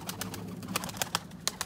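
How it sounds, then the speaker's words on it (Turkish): Pigeons cooing low and steady in a loft, with a young bird kept outside, mixed with scattered sharp clicks and rustling; no one speaks. "Öbürü de dışarıda kalan kuş."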